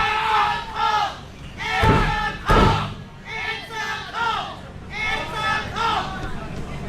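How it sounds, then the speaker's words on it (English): Wrestling crowd at a wrestler's entrance, loud rhythmic chanting and crowd noise with a couple of heavy thuds; an announcer talks over it. "you hear the crowd letting him know that it's a cult"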